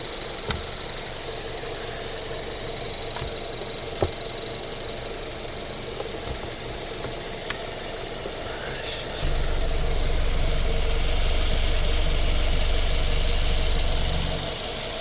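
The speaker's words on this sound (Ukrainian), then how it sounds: "Ось робота двигуна." A 2009 Mazda 6 2.0-litre petrol engine with automatic gearbox idles with a steady low rumble, growing noticeably louder and heavier in the last few seconds.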